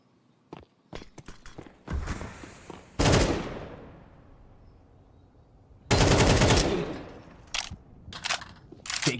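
Rifle fire in a Counter-Strike 2 esports qualifier match, including an AK: rapid bursts of shots and scattered single cracks, with two long, loud volleys and quieter footstep-like taps between them.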